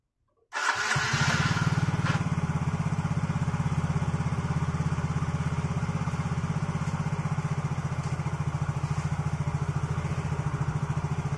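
A motorcycle engine, freshly given a major service after running poorly and stalling, cranks and fires at once, then settles into a steady, loud, close idle with an even rhythmic throb for the rest of the clip.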